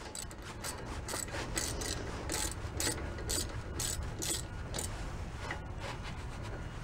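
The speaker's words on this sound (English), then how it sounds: "use a wrench. Tighten these really tight." A hand wrench ratchets while tightening brake caliper bolts on a 2008 Honda Odyssey during a front brake pad job, giving quick bursts of close, dry clicking with short pauses, no talking.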